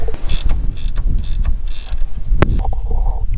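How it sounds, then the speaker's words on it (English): Wrench work tightening bolts down on a baling table, heard as bursts of metallic ratcheting and clanking over steady wind and machinery rumble, with one sharp knock near the middle. "Go wrench those down."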